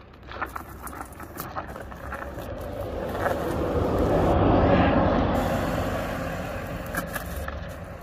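A mobility scooter drives along a road, its motor and tire noise swelling as it approaches, peaking near the middle and then fading as it moves off, over faint outdoor background noise.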